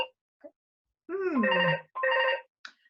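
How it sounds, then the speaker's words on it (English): A telephone rings in an interview room with two tonal ring bursts, moderately close and clear, with a few faint voice fragments around it. "It's unfortunate we have a phone in here."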